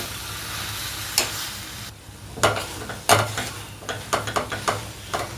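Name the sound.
amaranth leaves frying with onion-chili paste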